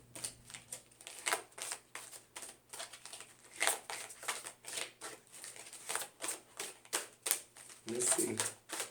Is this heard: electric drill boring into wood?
no